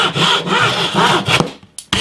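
Hand saw cutting through the end of a guitar fretboard at the nut position, a few quick close back-and-forth wooden rasping strokes that trail off into a short pause before one more stroke, no talking.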